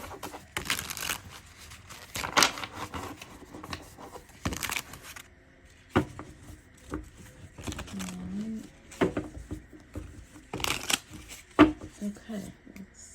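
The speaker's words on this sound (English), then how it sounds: "Let me shuffle your cards." Light Seers tarot cards are shuffled in bursts of crisp riffling and flapping, with brief soft rustles between them and quiet moments of speech mixed in.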